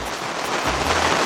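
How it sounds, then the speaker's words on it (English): Heavy rain pours steadily outside an auto repair shop, a dense continuous hiss that stays loud and even throughout, with no voices over it. "this rain is just ridiculous"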